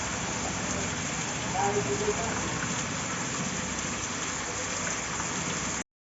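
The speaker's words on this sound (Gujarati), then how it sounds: "ફૂલ વરસાદ આવે ધોધમાર" Heavy downpour pouring steadily on a rainy-season day, a dense, unbroken hiss of rain that stays loud and even throughout before cutting off abruptly near the end.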